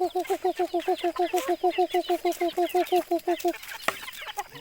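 Domestic chickens cluck steadily while being fed, a fast regular run of close, loud clucks that fades out, followed by scattered rustling and pecking noises.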